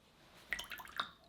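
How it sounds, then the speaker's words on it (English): A single drop of water falls into a glass of Lagavulin 16 year Islay whisky, giving a couple of faint, close, soft plinks in a quiet room. "Just one drip."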